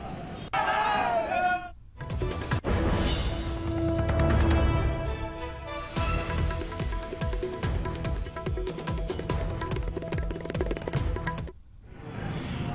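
A large crowd at a political rally in Agra chants slogans, a loud, sustained roar of massed voices with rhythmic cheering that carries on for most of the stretch before cutting off.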